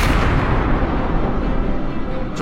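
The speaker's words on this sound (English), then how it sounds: "a supernova is a star that ends its life in a massive explosion" A supernova explosion effect: a loud, heavy booming roar with deep rumbling bass that hits at once and sustains for a couple of seconds, gradually thinning as it fades.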